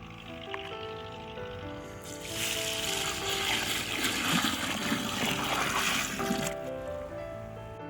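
Water poured into a planting hole for a peach sapling, a rushing gush swelling loud for several seconds then easing off, outdoors with no speech.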